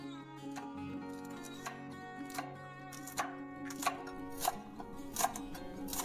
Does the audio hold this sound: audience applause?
no